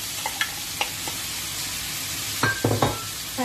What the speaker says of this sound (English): I'll stir it for 2 minutes only.